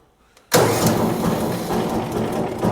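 A warm HECHT 6645 wood chipper engine catches abruptly after a moment of near silence and settles into a loud, steady running roar close by.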